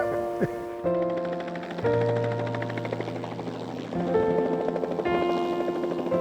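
A helicopter drones nearby in the Catalina Mountains, ferrying bighorn sheep, with a whining, shifting engine tone and faint rotor pulsing, steady and fairly loud throughout.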